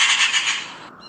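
A magpie gives one loud, harsh, rasping squawk close by that fades out within a second, with no talk over it.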